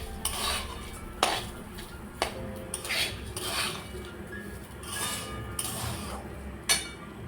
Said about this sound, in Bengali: রাইসটাকে আমি ভেজে নেব যতক্ষণ না রাইসটা হালকা হালকা সাদা সাদা হয়ে যায়